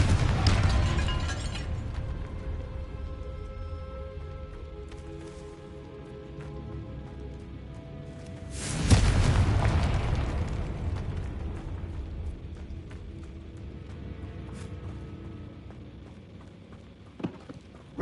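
Confringo fire spell blasts in Hogwarts Legacy, set inside a tomb: a loud roaring burst at the start fades into a rumbling tail, then a second sharp explosion erupts midway with a long crackling decay, ending in a small pop.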